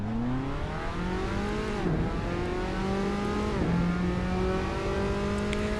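A race car engine in Assetto Corsa revs high and climbs steadily through the gears, with two brief dips at the shifts, a loud continuous whine in the foreground.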